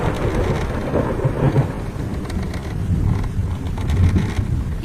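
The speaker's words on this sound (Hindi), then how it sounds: "बारिश इतनी तेज थी कि पूरे जंगल में बारिश का पानी बहने लगा।" Heavy cartoon rainstorm pouring over a forest, a dense steady roar of rain with low rumbling thunder underneath, loud and continuous with no voices.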